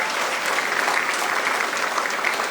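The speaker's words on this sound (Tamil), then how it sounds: "சாருக்கு ஒரு பெரிய கைத்தட்டலை நம்ம பாராட்டுக்களாக தெரிவித்துக் கொள்ளலாம்" A crowd at a freshers' induction program claps in thanks for a guest, producing a loud, uniform, continuous burst of applause with no talk over it.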